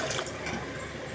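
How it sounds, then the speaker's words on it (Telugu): Water is poured into a pressure cooker holding roasted wheat rava (godhuma rava) for khichdi, a brief close, steady rushing splash with no talk. "వేగిన తర్వాత మీరు ఏ గ్లాస్తో అయితే తీసుకుంటారో దాంతో గ్లాసుకి 3 గ్లాసుల లెక్కన వాటర్ పోయండి"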